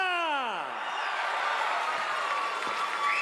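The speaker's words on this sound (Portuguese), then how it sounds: "Vamos bater uma salva de palmas para o melhor e maior presidente da história do Brasil, Lula!" An audience claps for President Lula at a public ceremony marking the doubled pumping capacity of the Eixo Norte, a steady wash of applause following a voice that trails off at the start.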